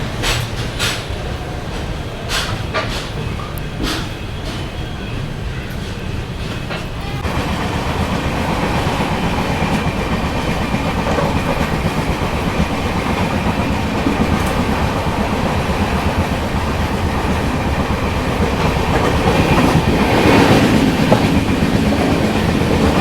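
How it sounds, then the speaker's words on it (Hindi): The Kanyakumari Pune Express runs at speed after leaving Trivandrum, heard from inside the coach as a loud, continuous rumble with rhythmic clickety-clack of wheels over rail joints, growing steadier and fuller after the first few seconds. "त्रिवेंद्रम निकलने के बाद तो अपनी ट्रेन ने बढ़िया भी स्पीड पकड़ ली है"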